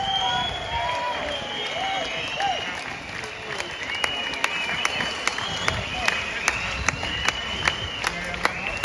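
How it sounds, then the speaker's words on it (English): A crowd at a London protest against grooming gangs applauds in a long, steady wash of clapping, with scattered sharper claps and a faint cheer rising through the noise. "Please give her a massive round of applause."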